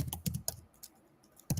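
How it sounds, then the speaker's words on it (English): Loud typing on a computer keyboard picked up by a microphone during an online meeting, several quick clustered keystrokes, a short pause, then another sharp burst of keys. "somebody who's typing very loudly on the keyboard, please mute yourself so that your typing isn't caught by the microphone"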